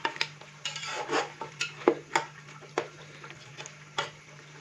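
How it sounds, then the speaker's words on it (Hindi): A spoon clinks and scrapes against a pot as peas are stirred and fried with beef for matar pulao, the irregular metallic taps close and distinct over a faint, steady background. "मटर डालने के बाद अभी हम इसको दोबारा से 4 से 5 मिनट अच्छे से भून लेंगे"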